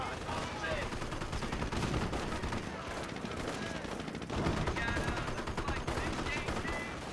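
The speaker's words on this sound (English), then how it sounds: "Got multiple MG42s firing away" Several MG42 machine guns firing in the WWII strategy game Company of Heroes, dense rapid bursts of gunfire layered with battle noise and other shots, continuous and fairly loud throughout.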